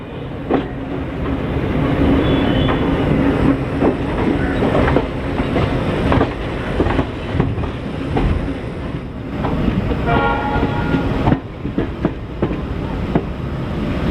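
Circar Express train pulling out of Rajahmundry station after a short halt, heard from on board: a loud continuous rumble with wind buffeting and repeated rhythmic clanks of wheels over rail joints.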